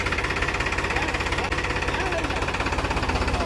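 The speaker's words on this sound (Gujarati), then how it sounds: "ટ્રેક્ટર હાલે છે" A tractor engine chugs steadily nearby, its low rhythmic knocking pulse loud and unbroken throughout.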